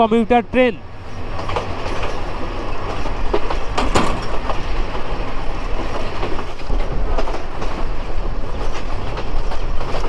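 A commuter train in Lalmonirhat, Bangladesh, rumbles along the rails with a steady clattering rhythm and occasional sharp clanks, heard from on board; a brief voice is heard at the start.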